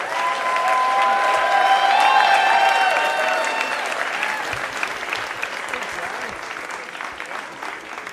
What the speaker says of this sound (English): Big round of applause for Jai.